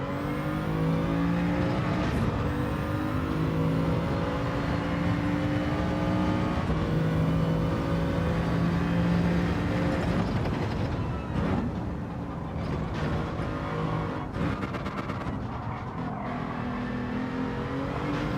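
BMW VGT race car in a racing video game, its engine holding a loud, continuous high-revving drone with shifting pitch through the whole stretch, alone without talk.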